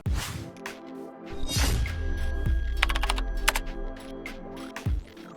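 Clicky keystrokes on a Logitech Pop mechanical keyboard styled like an old typewriter come in quick bursts, mixed with swooshing whooshes, sharp hits and a musical backing.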